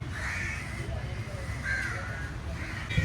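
Crows caw a few times, faint and somewhat distant, over steady outdoor background noise at a seaside spot.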